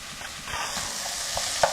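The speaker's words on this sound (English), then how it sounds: "we're just going to cook this for about 10 minutes until the vegetables soften" Chopped carrots and celery with salt and pepper cooking in a pot, a soft steady sizzle with a few light stirring knocks close by, no one speaking.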